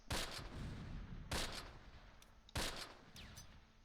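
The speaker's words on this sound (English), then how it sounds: "I hear grenades." Three heavy explosive blasts, roughly evenly spaced about a second and a quarter apart, from grenades in the WWII tactics game Close Combat Last Stand Arnhem, each with a sharp crack and rumbling tail over background battle noise.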